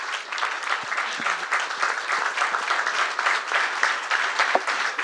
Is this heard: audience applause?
yes